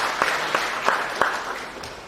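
An audience at the opening ceremony of a Hindu social and cultural organisation applauds a speaker being introduced. The clapping is fairly loud and sustained, with a few sharper claps standing out from the steady patter.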